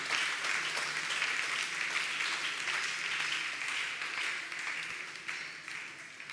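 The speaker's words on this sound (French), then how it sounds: "Acclamons très fort le Seigneur." A church congregation bursts into sustained applause, a dense wash of many hands clapping that stays loud for several seconds and slowly tapers toward the end, with no speech over it.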